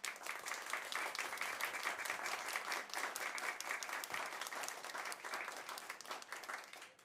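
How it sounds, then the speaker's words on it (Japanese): A crowd applauds at a pro wrestling show in a small basement venue, judging a chop contest between two wrestlers: dense, sustained clapping from many hands, steady and close throughout with no voices over it. "お客様は拍手をお願いいたします"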